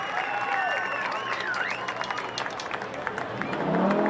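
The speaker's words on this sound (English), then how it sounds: "make some noise for Mike Kirby" Crowd at a USAC/CRA sprint car race at Perris, California, cheering and clapping in a steady wash of applause with whistles, fairly loud and continuous throughout.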